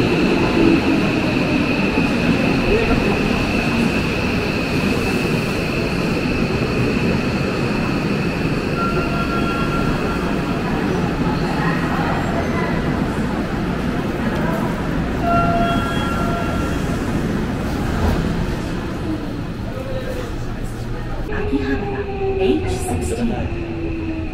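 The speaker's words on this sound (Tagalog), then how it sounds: "yan ang train." A Tokyo Hibiya line subway train pulling into the station, with a steady rumble and rising and falling motor whine against a busy platform background with faint voices.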